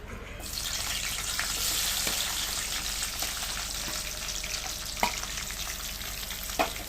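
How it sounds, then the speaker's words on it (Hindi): Chopped capsicum frying in hot oil over a full flame, a loud, dense, continuous sizzle heard close up, with occasional clicks of a spoon moving the pieces and no talking. "शिमला मिर्च हमने डाल दिया गाइस। और अब इसको भी हम थोड़ा फुल फ्लेम पे करके तलेंगे।"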